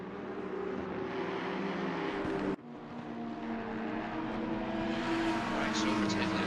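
GT3 race cars in a racing game, an Aston Martin close behind a GTR heading up toward the corkscrew, engines roaring loudly with a brief cut and rising whine, under talk.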